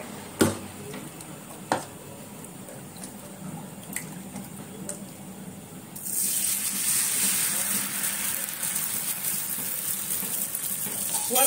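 Spinach ghavne batter hits a hot oiled griddle with a sudden, loud, steady sizzle that takes over after a few faint drips and taps, filling the rest of the clip with a continuous hiss.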